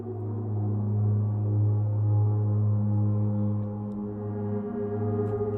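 A synthesizer's harmonic cello preset: a sustained cello-like tone with rich harmonics and slight grit, held steadily and fairly loud, with no talking.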